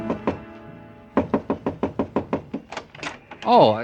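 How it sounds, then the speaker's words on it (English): Knuckles rap on a hotel room door in an old radio drama: two knocks, a pause, then a long run of about a dozen evenly spaced sharp raps, close and loud, followed by a brief voice. "I stopped in front of room 300 and knocked."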